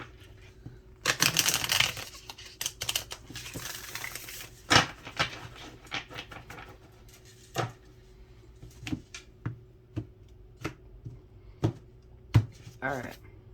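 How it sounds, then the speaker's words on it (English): Cards being shuffled for a tarot-style reading, heard as a burst of riffling around the one-second mark followed by scattered soft slaps and flicks of cards being handled, close up and fairly quiet. "And this will be the last shuffle."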